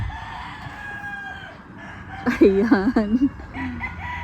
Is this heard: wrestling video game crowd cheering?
no